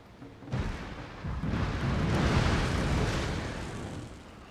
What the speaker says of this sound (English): That was one fire rocket round